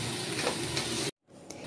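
Bitter gourd with spices and salt being stirred in a pan: a steady, close scraping sizzle for about a second, then a sudden gap of silence before quieter stirring resumes.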